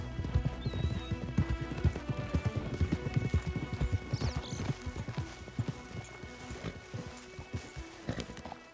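Rapid hoofbeats of horses galloping in the video game Red Dead Redemption 2, a dense clattering rhythm with an occasional whinny, steady and fairly close throughout.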